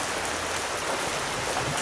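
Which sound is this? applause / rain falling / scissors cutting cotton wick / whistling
rain falling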